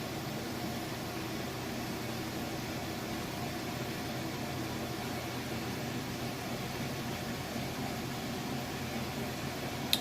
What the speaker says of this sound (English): it's got a very fast, very powerful spin on it